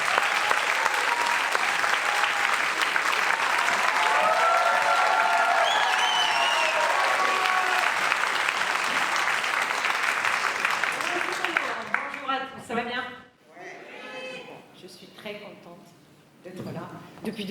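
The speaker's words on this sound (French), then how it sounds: "Je vous demande d'applaudir, s'il vous plaît, Marthe Tovar" Sustained applause from a large audience at a talk on whether music needs a conductor, steady and dense for about twelve seconds before fading out, followed by a speaker talking.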